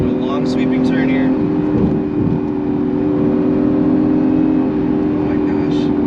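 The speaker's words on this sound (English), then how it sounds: "Listen to that motor." A 2018 Acura NSX hybrid with twin turbos pulls hard, its engine droning loud and steady from inside the cabin throughout, with a faint high whine on top.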